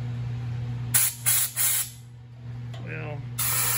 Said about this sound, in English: I just stuck the old air nozzle in there